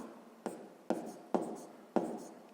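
Pen strokes on paper while working a sixth-grade math exercise, four distinct scratchy strokes at a steady rhythm, each starting with a small tap and trailing off, close and quiet.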